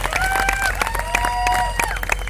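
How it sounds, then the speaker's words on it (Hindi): Audience applause at a live corporate announcement event in Jim Corbett, dense clapping with crowd noise and some cheering, steady and moderately loud throughout, with a few whistle-like tones above it. "मेरे ख्याल से जोरदार तालियां आप सबके लिए होनी चाहिए"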